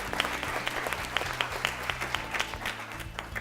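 An audience applauds a school quiz team at a grand finale, steady dense clapping from many hands with a low musical hum underneath, continuous for the whole stretch.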